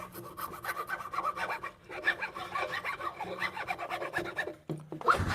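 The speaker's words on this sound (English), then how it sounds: "This is just a file, but that's similar to what a rasp is." A hand file rasps against wood while finishing a through mortise, with quick repeated scraping strokes up close and fairly quiet, and brief pauses between passes.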